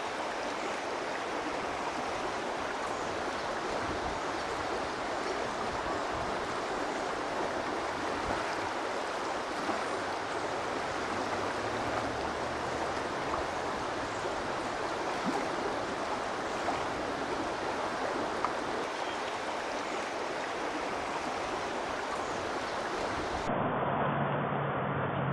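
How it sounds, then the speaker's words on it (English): Car wash wastewater flows steadily into a containment dam area, a continuous broad rushing and splashing of water that stays even and fairly close throughout. "all of your wastewater will just flow right down into your dam area here"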